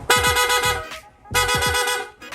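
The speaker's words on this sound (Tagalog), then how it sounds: "Nag-install din tayo ng rapid horn." Two bursts of rapid, rising multi-tone horn honking from an aftermarket rapid horn on a Yamaha Sniper 155 motorcycle, loud and close, each lasting about a second with a brief gap between.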